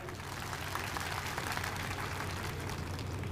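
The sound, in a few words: audience applause at a political meeting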